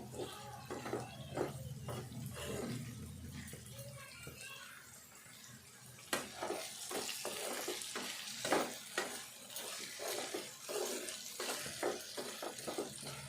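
Potato pieces frying in a pan for a potato chicken curry, a soft steady sizzle broken by scraping stirs and clinks of a spoon, with quiet background noise and no talking.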